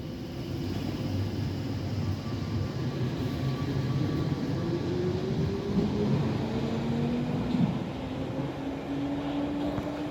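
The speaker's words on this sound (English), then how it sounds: "here goes the Piccadilly line train I just caught going to Cockfosters" A London Underground Piccadilly line train pulls away from Acton Town towards Cockfosters, a steady rumbling roar with rising motor whine tones as it accelerates, continuous and fairly close.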